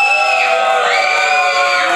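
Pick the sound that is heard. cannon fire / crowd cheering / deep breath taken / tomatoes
crowd cheering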